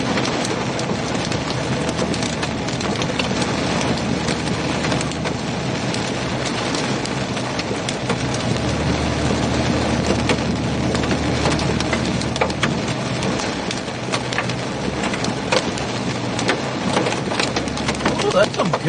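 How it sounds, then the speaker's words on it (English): Hail pounds down during a North Dakota supercell storm, a dense, continuous clatter and hiss of stones striking surfaces, loud and unbroken, with a low engine-like rumble underneath. "that's some good hail"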